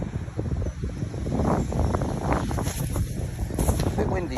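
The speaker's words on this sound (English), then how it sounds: "A bit windy today, but it's good because it's so hot." Wind buffets a chest-mounted microphone outdoors on a hot day, a steady close rumble with gusty swells throughout and faint voice-like fragments underneath.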